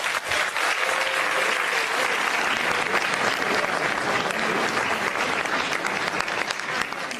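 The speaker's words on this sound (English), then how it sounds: "how about a nice round of applause for our moderator" Sustained audience applause for a debate moderator fills the room, a dense, even wash of many hands clapping at steady loudness throughout, with faint crowd noise underneath.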